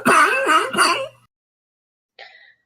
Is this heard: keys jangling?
no